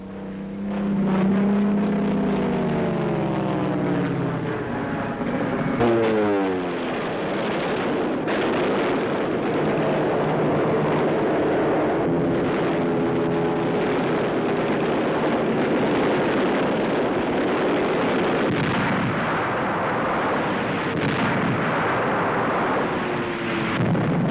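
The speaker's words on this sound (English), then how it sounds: "Allied fighters soon shot the German planes out of the sky." Propeller-driven WWII fighter planes roar across an archival wartime soundtrack, a sustained loud engine drone with shifting pitch sweeps as aircraft pass, mixed with bursts that suggest gunfire.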